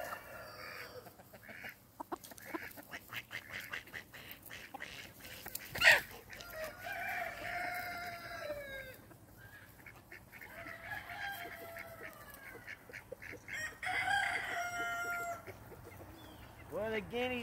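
Guinea fowl on a homestead call out in harsh, repeated cackling bursts amid other farm poultry, moderately close, while people talk intermittently over them.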